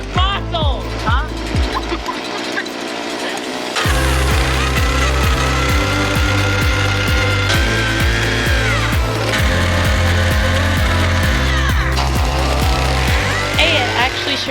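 Loud, continuous powered auger grinding into the ground while clearing a homestead perimeter, its motor note wavering as it bites into soil, with a brief drop near the start and people talking over it.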